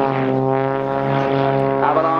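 An Xtreme Air XA41 aerobatic propeller plane performs at the Dunsfold Wings & Wheels airshow, its engine droning loud and steady with a strong buzzing harmonic tone, while an announcer talks over it.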